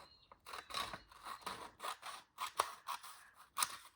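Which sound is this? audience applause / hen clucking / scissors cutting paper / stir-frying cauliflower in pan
scissors cutting paper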